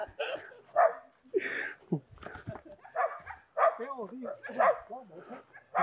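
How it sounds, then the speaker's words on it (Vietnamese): A dog barks and yelps several times beside a rural Vietnamese home of an elderly man, the barks mixed with nearby talk and shouting voices. "Chó này rất là sợ các bác, rất là ghê."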